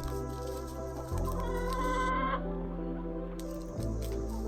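Rescue chickens of mixed breeds cluck and murmur close by in their coop and fenced run, with one bird's louder call rising over the steady flock chatter.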